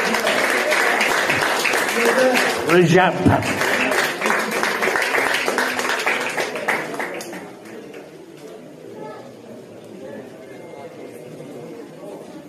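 A crowd at a fight weigh-in in Cork bursts into applause and chatter for a super middleweight fighter from Marseille, loud for several seconds, then fading, with a voice over the start.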